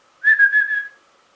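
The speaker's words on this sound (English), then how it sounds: "Can you whistle? Yes." A person whistles a short, steady note with a slight wavering lilt, lasting under a second, alone in a quiet room.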